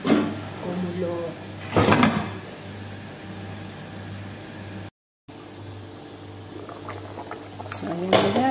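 Arroz caldo porridge simmers in a covered pot with a low, steady bubbling, broken by clanks of the lid or pot and someone speaking over it.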